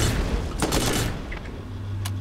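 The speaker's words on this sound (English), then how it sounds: "Support machine gun." A support machine gun fires in Borderlands, giving a short, loud, close burst of rapid shots that fades into game noise, with no talk.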